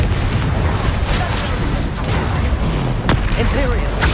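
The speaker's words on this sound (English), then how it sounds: "Confringo!" A Confringo fire spell bursting in Hogwarts Legacy, heard as booming blasts within a dense, continuous wash of game combat noise, with a voice shouting spell names over it.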